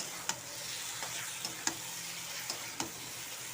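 Green broccoli florets sauté in a pan for a broccoli curry, a quiet, steady sizzle broken by a handful of sharp spatula taps and scrapes spaced about a second apart, close by with no talk.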